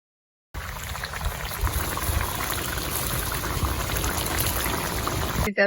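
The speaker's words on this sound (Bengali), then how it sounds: "ইঁচড়টা ফুটে গেছে ভালোভাবে এবার চিংড়িটা আমি দিয়ে দিই" A young jackfruit curry boils vigorously in a pot as shrimp go in. After a brief silence, a loud, close, continuous bubbling roar holds steady throughout.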